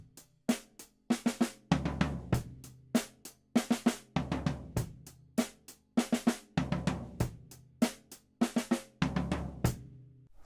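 A full drum kit groove repeating in short phrases, with crisp snare hits and a rolling tom fill, played close with brief gaps between bars.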